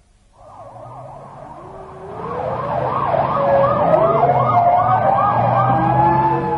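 A wailing siren rises in over a running engine, its pitch sweeping up and down rhythmically and growing louder as it approaches.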